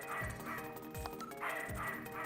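Dog barks and yips in the Sega CD game Snatcher, several short woofs spaced at a steady pace over a droning musical background.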